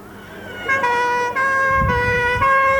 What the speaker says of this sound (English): the rapid intervention ambulance car has also arrived to give first aid